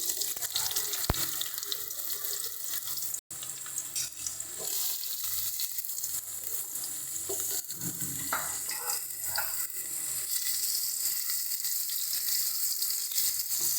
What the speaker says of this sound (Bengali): এবার এর মধ্যে আমরা আলুটা দিয়ে আলুটাকে ভেজে নেব।